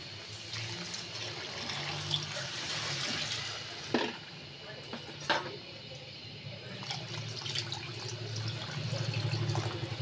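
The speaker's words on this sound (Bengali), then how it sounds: "এবার আমি পানি অ্যাড করে দেবো।" Water poured into a cooking pot of sautéed rice for beef bhuna khichuri, a soft steady pouring and splashing with a few clinks, fairly quiet.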